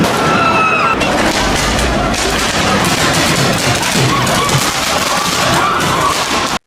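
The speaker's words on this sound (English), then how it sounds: "Police officers in Birmingham have been attacked with fireworks, fired at point-blank range" Fireworks set off in a Birmingham street and fired at police officers, heard as a loud, dense, continuous barrage of crackling bangs and booms that overlap with no pause for almost seven seconds.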